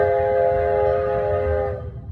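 A steady, high-pitched whistle from steam engine #5 with a bigger whistle pipe, sounding as one loud, unbroken blast for about two seconds before it trails off at the end.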